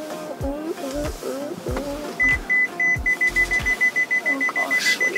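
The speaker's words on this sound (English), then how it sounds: "what are you beeping me for?" An electronic device gives a rapid run of sharp, evenly spaced high beeps, loud and close, after a few thuds and a brief spoken sound.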